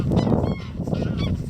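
Several geese on a riverside path honk agitatedly in quick, overlapping calls, close and loud, with no talking.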